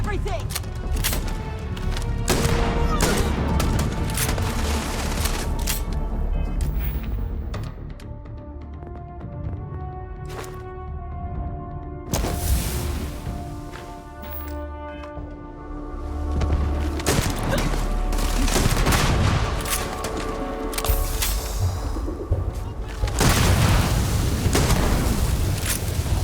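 Sci-fi video game firefight in Starfield, with loud bursts of gunfire and booming impacts layered over near-constant shouting voices, dense and chaotic throughout with brief lulls.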